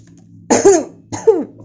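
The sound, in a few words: cough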